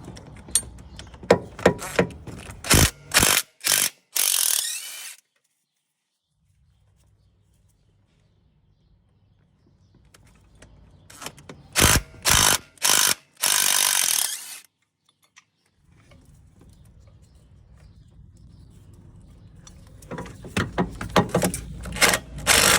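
A hand ratchet loosens the bracket bolts on a Toyota Yaris during a clutch change, sounding as bursts of sharp rapid clicks separated by quiet pauses, with a faint low hum between bursts.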